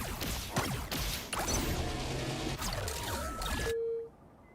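Bombs dropping and exploding in the video game Marvel Rivals at a grand finals esports match, a rush of crashing booms and whooshing blasts that cut off abruptly into near silence with a faint tone.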